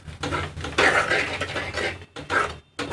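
Potato and eggplant curry, Punjabi style, with red chili, turmeric and coriander powder being stirred in a pan: several close, scraping strokes of a spoon against metal, separated by brief pauses.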